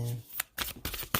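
Oracle cards being shuffled by hand in short, crisp riffling bursts, several quick rustles in a row with pauses between, close and moderately loud.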